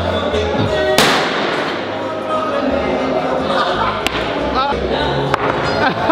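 A tejo gunpowder target in Bogota, Colombia explodes with a single sharp bang when struck, followed by a lively crowd with people talking and cheering loudly, plus a few smaller pops.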